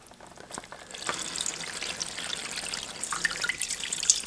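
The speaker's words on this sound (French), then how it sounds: "Je vais recouvrir la carcasse d'eau." Water pours in a steady, close stream over a roughly 1 kg bone carcass and its cooking juices in an Instant Pot, splashing and trickling for a few seconds with no talk.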